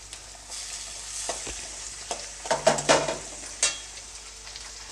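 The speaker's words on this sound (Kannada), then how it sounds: "ಈರುಳ್ಳಿ ಫ್ರೈ ಆದಮೇಲೆ ನಾನು ಒಂದು ದೊಡ್ಡ ಸೈಜು ಟೊಮೊಟೊ ತೊಗೊಂಡಿದ್ದೀನಿ ಟೊಮೊಟೊನ ಸಣ್ಣದಾಗಿ ಕಟ್ ಮಾಡಿ ಹಾಕ್ಕೊಳ್ತಾ ಇದ್ದೀನಿ" Chopped onion and a large diced tomato frying in a pan for avarekalu chitranna, a soft sizzle broken by several louder clatters of stirring near the middle, with no talk.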